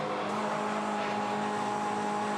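Toyota 86 race cars at full throttle around Phillip Island circuit, a dense steady engine roar sustained throughout, loud and continuous with no voices.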